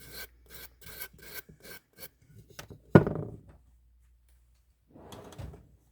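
A resin piece sanded by hand with sandpaper: a run of quick rhythmic rasping strokes, then a sharp knock and a few scattered scrapes, one more brief rubbing burst after a pause; close, no talk.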